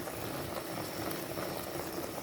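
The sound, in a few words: liquid boiling in a cooking pot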